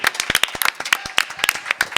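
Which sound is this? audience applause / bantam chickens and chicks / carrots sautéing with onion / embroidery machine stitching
audience applause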